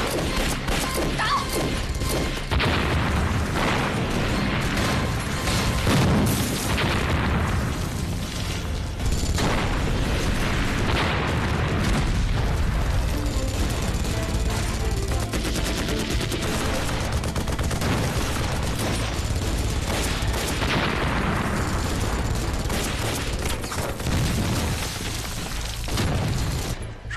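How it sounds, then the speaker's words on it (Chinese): Intense gunfire rages through a kung fu war film battle against Japanese soldiers: dense, continuous bursts of shots and booming blasts with clanking mechanisms, loud and close for nearly half a minute, with almost no dialogue. "炮台山传来激烈枪声？"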